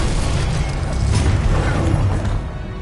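Spell explosions from the video game Hogwarts Legacy form a loud, dense burst of booming rumble and crackling noise that holds for a couple of seconds, then tapers off, with no talk.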